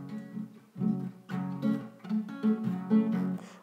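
Guitar strummed fast and sloppily through an unfamiliar, complicated strum pattern and odd chord progression, with uneven bursts of chords, fairly quiet and unaccompanied.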